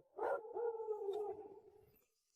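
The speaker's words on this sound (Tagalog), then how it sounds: "Nandito na ang mga lobo." A pack of wolves in a hunting area, one long mournful howl rising and holding for about two seconds, then fading, fairly faint with no talk over it.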